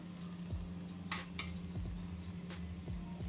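A flatbread crisping on both sides in a pan makes a soft, steady sizzle with a few light taps and scrapes of a spatula.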